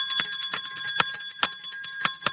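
A small bell rings repeatedly in a rapid ringing pattern, bright metallic strikes about every half second over a continuous shimmering tone, close and loud with no talking.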